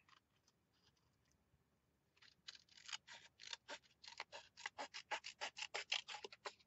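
Scissors trimming paper, with a few faint snips at first, then a quick run of sharp, crisp cuts repeating in a steady rhythm close to the listener, with no voices.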